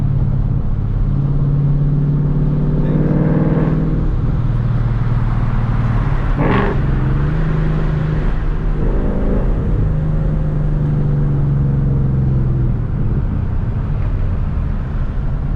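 A ProCharger-supercharged Ford Mustang makes about 740 rear-wheel horsepower. Its engine drones loud and steady from inside the car, rising in pitch as it accelerates and then settling back into a low rumble.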